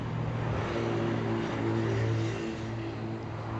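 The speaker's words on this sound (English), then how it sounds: "So that gives you an idea of how the bike runs." A 2007 Big Dog Mastiff motorcycle engine running steadily, a loud, close, even idle rumble with a constant hum and no talk over it.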